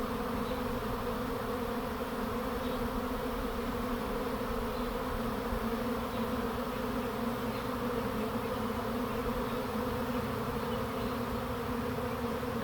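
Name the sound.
honeybee swarm buzzing around a person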